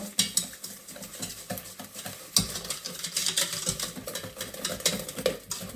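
A whisk or spoon stirs coconut custard cream ingredients with vanilla sugar in a bowl, giving quick scraping, clinking strokes in an uneven rhythm that grows denser and louder partway through, close up with no talk.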